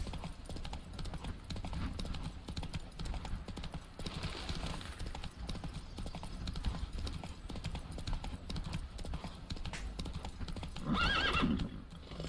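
A horse in The Witcher 3 video game trots with steady clip-clop hoofbeats, then gives a loud neigh near the end. Game ambience continues underneath, with no clear speech.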